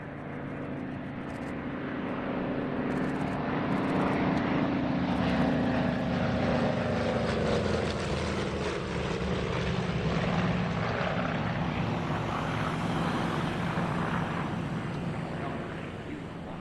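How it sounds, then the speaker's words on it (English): Four WWII propeller fighters, a Tigercat, Bearcat, Hellcat and Wildcat, pass overhead in formation at an air show, their engines a broad continuous drone that swells and slowly shifts in pitch as they fly by. "This four-ship sequence saw an F-7F-3P Tiger Cat leading an F-8F-2 Bearcat, an F-6F-5 Hellcat and an F-4F-3 Wildcat"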